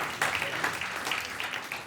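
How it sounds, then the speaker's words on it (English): An audience applauds at a South African car show studio taping, a short burst of dense, steady clapping at moderate volume with no voices over it. "A round of applause, everybody."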